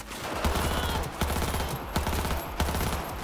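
Submachine gun fire in the video game Cyberpunk 2077, with loud, close rapid bursts repeating every half second or so over a dense, booming combat mix.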